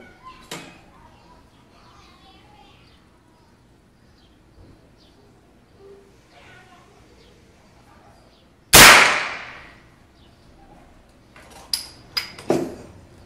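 A single loud shotgun blast cracks out at close range during a hunting shotgun test, a sharp report with a decaying tail, preceded and followed by quiet outdoor ambience and several smaller metallic clicks near the end.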